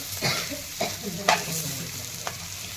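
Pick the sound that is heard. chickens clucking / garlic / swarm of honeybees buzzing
garlic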